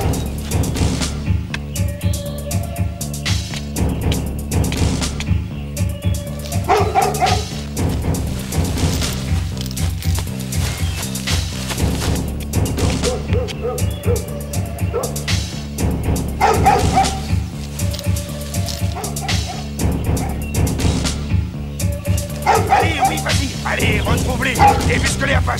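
A big dog barks and yips in repeated bursts during an attack scene, mixed under a constant loud soundtrack of music and action noise that runs throughout.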